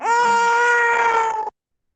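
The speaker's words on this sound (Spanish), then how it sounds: "escuché un llanto de fondo" A small child cries out in one sustained, loud, high wail of about a second and a half over a video call, then stops abruptly.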